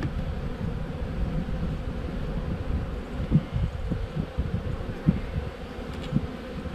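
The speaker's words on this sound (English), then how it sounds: "All those bees robbing." Honeybees swarm densely around hive frames and a nuc box amid robbing, making a steady low drone of many buzzing wings, close and continuous, with no talk.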